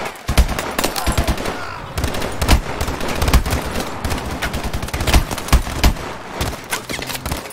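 Rapid automatic fire from a weapon in Call of Duty: Advanced Warfare, dense loud bursts rattling almost continuously with brief gaps, close and harsh, a voice talking faintly beneath.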